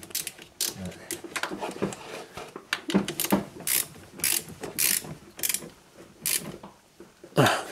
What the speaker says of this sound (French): Donc vous serrez vos cosses, à l'aide du 10.